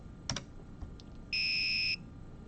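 A small Hacking STEM classroom buzzer driven at 3000 Hz sounds a steady, rough, slightly hoarse electronic tone for about half a second after a couple of faint clicks, heard alone in a quiet room.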